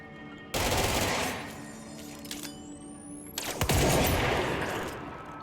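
Gunfire from a transforming gun in the video game Control: two loud, dense bursts of rapid shots, the first erupting about half a second in and the second near the middle, with quieter game ambience and a rising whine between them.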